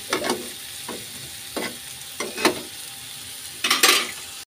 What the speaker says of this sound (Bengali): এবার এটা একটু ভাজা ভাজা হোক